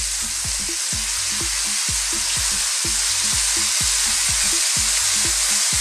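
Canned sardines and Scotch bonnet pepper fry in a pan with a loud, steady, close sizzle, broken by a regular pattern of soft low knocks throughout, with no speech.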